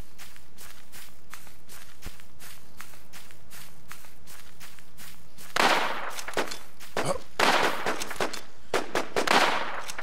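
Gunfire in the battle royale survival game Infestation The NewZ, a cluster of sharp cracks and bursts in the second half, some close, following quieter footsteps and shuffling.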